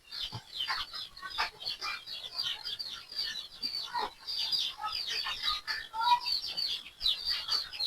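A flock of brooding hens clucks and chatters continuously at moderate volume, many overlapping calls blending into a busy barnyard murmur.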